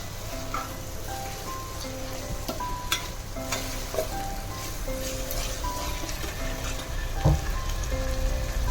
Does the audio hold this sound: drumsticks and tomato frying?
yes